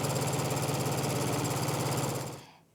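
A sewing machine stitches quilt block fabric with its right sides together, running in a fast, even mechanical whir with a rapid rhythmic chatter. The sound is close and steady, then stops abruptly near the end.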